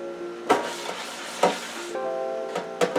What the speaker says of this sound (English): you're gonna take your sweet potato and you're gonna rub it in the bottom of the pan like that